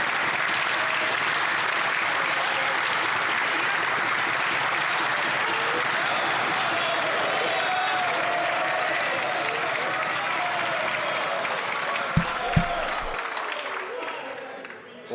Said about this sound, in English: Usually I pause it for all the clapping and stuff